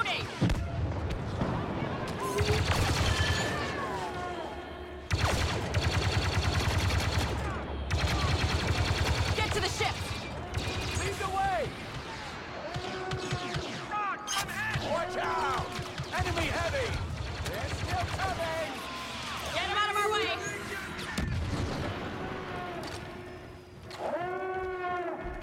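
Blaster fire rattles through a Star Wars Battlefront 2 battle on Jakku in rapid repeated bursts mixed with booming blasts, while voices shout over the fighting.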